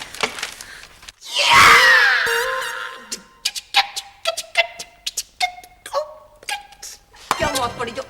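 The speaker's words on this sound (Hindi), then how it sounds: "क्या मौत पड़ी जो इतनी जोर जोर की चीखें मार रहे हो?" A loud sustained scream rises for about two seconds, followed by a string of short, choppy cries and gasping sobs, with some talk in the background.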